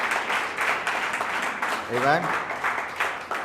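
Churchgoers at a worship service applaud in a steady, crowded patter while a voice speaks over the clapping partway through.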